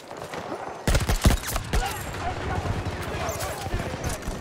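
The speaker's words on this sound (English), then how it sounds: "Under fire!" Battlefield 2042 combat with a burst of close, loud gunfire starting about a second in, sharp overlapping shots followed by sustained rattling fire and battle noise, with voices shouting over it.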